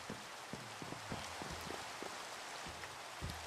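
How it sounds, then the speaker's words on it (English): Gentle, steady rain falls around a waterfall, a soft even hiss dotted with scattered drops landing close by. "come look at the gorgeous waterfall in the rain"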